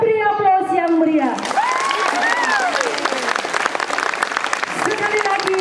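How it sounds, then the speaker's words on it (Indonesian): Audience at a school event breaking into loud, sustained applause with some cheering, following a brief stretch of amplified speech from a host. "Kita beri aplaus yang meriah."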